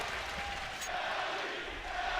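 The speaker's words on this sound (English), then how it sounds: "Crowd starting to come to life now." An esports arena crowd at the IEM Oakland 2017 CS:GO grand final between NiP and FaZe Clan roars as a broad, steady wash of cheering and shouting, loud and sustained throughout.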